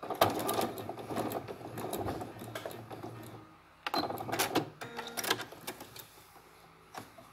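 A sewing machine stitches a diagonal seam on a Christmas project binding, two close bursts of rapid mechanical whirring separated by a brief pause, with light handling clicks at the end.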